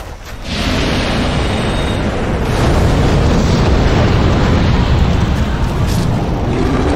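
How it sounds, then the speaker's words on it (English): A Fire Tempest spell cast in Dark Souls, with a loud, roaring eruption of flame pillars that surges up and holds as a dense, continuous rumbling blast for several seconds. "run up underneath him and cast a Fire Tempest"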